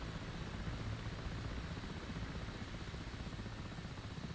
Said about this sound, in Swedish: Det kommer en helikopter bakom oss.